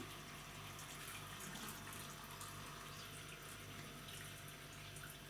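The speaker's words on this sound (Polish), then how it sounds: "Zalewam te jabłuszka tak, żeby były przykryte wodą." Boiled water pouring steadily over apple peels in a container for homemade apple cider vinegar, a continuous close splashing and trickling that holds even throughout with no speech.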